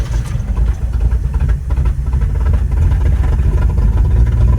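A car engine running with a steady low rumble and some clatter, fuel pump acting slow and running a little smoky, held fairly loud throughout with only a slight rise in pitch as it is revved.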